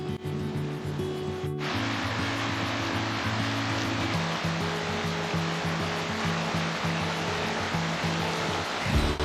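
River water rushing steadily along a riverside, a broad continuous wash close by with no talk.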